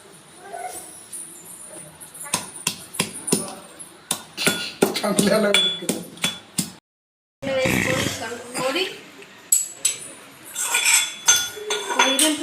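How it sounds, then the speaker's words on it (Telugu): Fried tamarind is pounded with rock salt in a kitchen, irregular close thuds and clinks of pestle against mortar, with a short silent break midway and someone speaking over much of it. "మంచిగా అవి దంచుకోవాలి ఇప్పుడు ఇందులోనే కొంచెం రాళ్ళు ఉప్పు వేసుకోవాలి"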